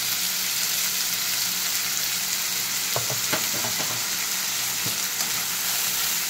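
Spices with tomato and green chili paste sizzling in oil for Bengali khichdi, a steady bright fry with a few scraping stirs midway, close and continuous, no voices.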